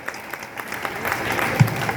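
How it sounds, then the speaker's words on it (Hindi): Applause from a crowd at a student award ceremony in an indoor hall, a steady wash of many hands clapping that swells slightly toward the end, with no voices standing out. "जोरदार तालियां बजाकर उनका स्वागत करें"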